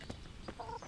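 Chickens in the medieval game Kingdom Come: Deliverance, with a few short clucks and squawks close by in a quiet village scene, followed by a higher, drawn-out call.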